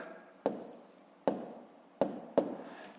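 Pen or pencil on paper writing numbers by hand during long division: four distinct tapping strokes with soft scratchy scraping after each, close and quiet, with no talk.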